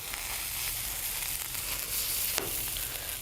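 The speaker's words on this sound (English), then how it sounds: "That sizzle is beautiful" Steady, crackling sizzle of bread frying in a hot skillet, with a brief sharper spatter near the end.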